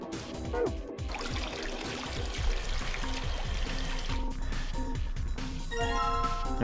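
In the video game Zero Escape: Virtue's Last Reward, water pours steadily into a beaker, a continuous trickling stream under soft chiming game tones.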